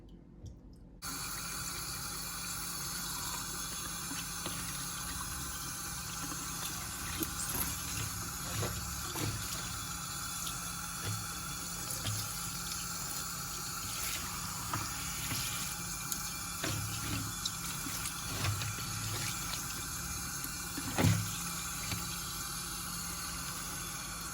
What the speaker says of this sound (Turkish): Ve biraz da suyun altında bol suyla yıkıyoruz.